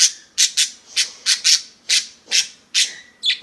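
A pet bird squawks repeatedly indoors, about ten sharp, shrill calls in an irregular series, loud and close with no talk.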